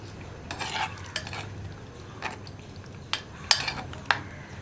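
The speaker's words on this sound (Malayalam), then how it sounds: "ഒന്ന് ഇളക്കി കൊടുക്കാം." A spoon stirs sweet banana pachadi in a pot, with intermittent scraping and clinks of metal against the pan over a faint low simmer, close and without talk.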